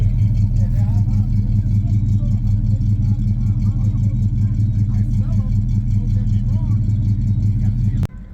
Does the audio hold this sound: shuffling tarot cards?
no